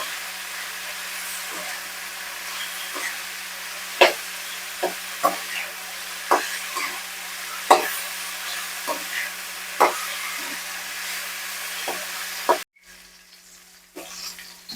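Cauliflower pieces fry in a pan with a continuous close sizzle, broken by repeated sharp clinks and scrapes of stirring, and a sudden drop in the sizzle near the end.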